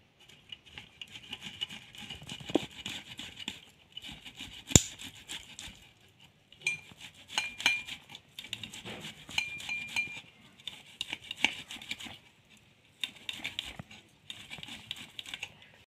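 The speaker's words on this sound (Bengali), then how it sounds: "গ্রেটারে করে আলুটা ঘষে নিলে পুরো মিহি হয়ে যায়" Fast, rhythmic scraping of potato against a grater comes in bursts separated by short pauses, close and fairly quiet, with an occasional clink.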